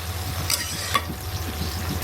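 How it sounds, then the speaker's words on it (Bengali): Onion and cabbage fry in hot oil seasoned with five-spice (panch phoron), a steady close sizzle with a few sharp clicks of stirring against the pan. "তেলের মধ্যে পাঁচফোড়ন দিয়ে পেঁয়াজ আর বাঁধাকপি একসাথে দিয়ে দিচ্ছি"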